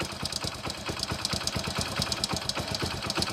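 A motorcycle engine with a worn timing chain idles close by, its steady, rapid ticking and clattering running evenly throughout with no one talking.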